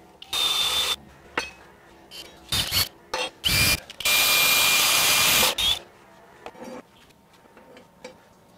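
A power drill bores a hole in a shelf in several short whirring bursts, then one longer sustained run, close and loud, with quiet gaps between.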